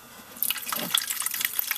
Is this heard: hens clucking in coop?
no